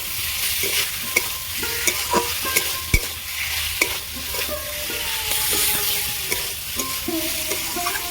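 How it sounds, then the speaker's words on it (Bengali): Potatoes fry in oil with spice paste for a fish curry, giving a continuous close sizzle broken by regular sharp clinks and scrapes of a spatula stirring against the pan, with no voices. "এবার আমি ঘিরে রাখা আলুগুলো দিয়ে দেবো ভালো করে তেলের সঙ্গে আলুগুলো কষিয়ে নেব"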